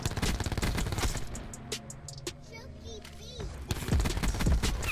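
Rapid bursts of Skorpion EVO submachine gun fire in a first-person shooter game, loud and dense at the start and end with a quieter gap between, mixed with other game sounds.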